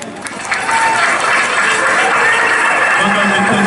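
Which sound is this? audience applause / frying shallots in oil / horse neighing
audience applause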